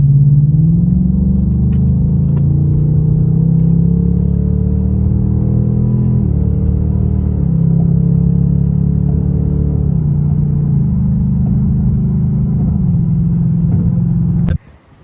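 A deep, steady V8 engine rumble from a 2024 Ford Mustang GT (S650) runs close and loud, its pitch rising and falling gently in a few smooth rev swells before cutting off abruptly at the end.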